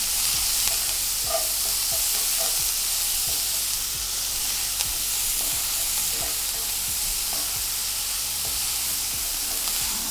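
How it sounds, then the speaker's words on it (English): Garlic sizzling in a hot pan with onions, a continuous dense frying hiss broken by regular soft scraping strokes of stirring, close and steady throughout. "tablespoons of garlic. Let that cook and get a little brown."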